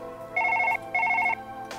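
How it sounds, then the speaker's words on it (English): Two evenly spaced double bursts of a trilling electronic telephone ring sound fairly close and clear, each lasting under half a second, over a quiet hum and without speech. "let's actually answer the phone"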